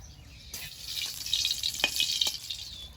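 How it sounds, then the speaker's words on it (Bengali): A dried red chili hits hot oil in a wok and bursts into a loud, close crackling sizzle that carries on with small pops and spits. "তেলটা গরম হয়েছে তেলের মধ্যে দিয়ে দেবো একটা শুকনো লঙ্কা কেটে"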